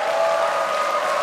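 An orchestra concert audience roars and claps in a dense, loud burst of crowd noise calling for an encore, with no single voice standing out.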